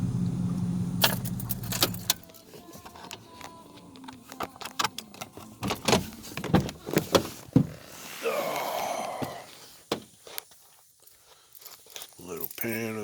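A truck's engine runs briefly and cuts out, then keys jangle and a door clicks and thuds as someone climbs out at a rural deer-lease campsite. Close, busy clatter of handling noises follows, with short bursts of movement.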